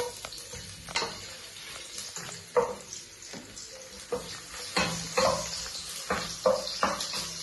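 Ginger sautéing in a hot pan, a soft sizzle broken by repeated stirring scrapes and clinks at an uneven rhythm, close and clear with no talking.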